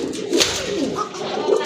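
Male black and gold archangel pigeon cooing in a short, fairly close run of soft throaty notes, with a brief higher call partway through and no talk.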